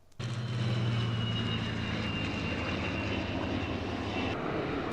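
A Bristol Blenheim, the only airworthy example in the world and based at Duxford, drones steadily overhead with a sustained piston-engine roar that stays loud and even throughout, with no talk.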